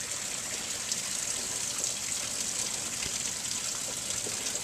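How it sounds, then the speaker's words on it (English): Water gushes steadily through an electric pond heater being flushed out, a constant broad hissing rush with no breaks, fairly loud and close throughout. "we're just going to let that flow for a while to flush out any possible impurities"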